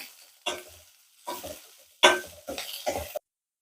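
Small onions are stirred and sautéed in a pan for a dried anchovy fish curry, sizzling in several distinct bursts with quiet gaps between, the last burst cutting off to silence.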